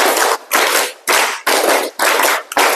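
A class claps out a rhythmic ice-breaker pattern in Indonesian-style 'tepuk' fashion, with loud, tight bursts of group clapping in repeated blocks separated by short pauses, close and alone.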